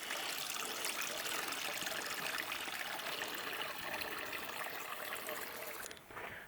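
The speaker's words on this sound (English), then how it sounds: "here we have the campsite water source. It's running." A campsite water source stream runs steadily at a mountain campsite in a dry year, its constant close trickle and rush filling the whole stretch before easing slightly near the end, with no voices.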